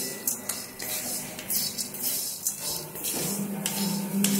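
A metal utensil scrapes and clinks against a pot while food is stirred over a charcoal fire, with irregular close clatters and a faint sizzle underneath, no talking.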